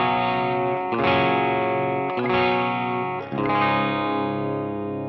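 Three strummed electric guitar chords in a clean tone with a shimmering effect, each ringing out steadily before the next.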